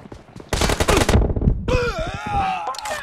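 Loud rapid gunfire rattles in a dense burst, then gives way to a whining, pitch-bending electronic tone with a few more sharp cracks.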